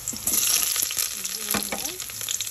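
Minced garlic sizzles and spits in hot sunflower oil in a pan, a steady, close, bright frying hiss with a few soft stirring knocks and no talking.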